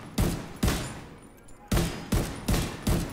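Six sharp bursts of gunfire from The Division, a third-person shooter, fired in an irregular rhythm with short gaps between shots; each burst is loud and close, with a brief hollow tail.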